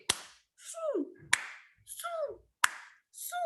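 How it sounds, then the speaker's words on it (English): Children do a rhythmic clapping game: three sharp, single claps land at even intervals, each followed by a chanted vocal call, so claps and voices alternate clearly. "are you ready, boys and girls, to do the fire clap?"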